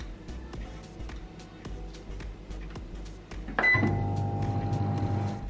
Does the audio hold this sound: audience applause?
no